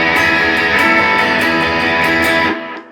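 Unmuted guitar strummed repeatedly so all strings ring together in a dense, washy sustained wall of sound, loud and close, then cutting off and fading near the end; no talk.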